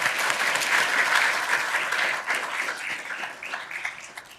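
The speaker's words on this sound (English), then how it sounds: "Quick round of applause." An audience at a law school moot court competition final applauds steadily, a dense patter of many hands that gradually thins and fades out.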